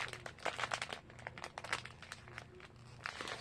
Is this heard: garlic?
no